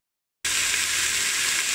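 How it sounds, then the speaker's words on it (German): Goulash ingredients hit hot oil in a Krups Cook4me+ multicooker, bursting into a loud, steady sizzle after a moment of silence and frying on without pause. "Man hört es schon brutzeln"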